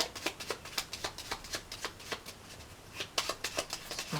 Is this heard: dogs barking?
no